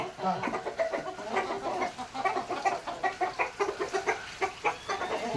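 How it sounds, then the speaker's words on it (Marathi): Five hens and five roosters cluck in a busy, overlapping chorus, with short repeated calls across the whole stretch and a faint background murmur. "पाच कोंबडी आणि पाच कोंबडा"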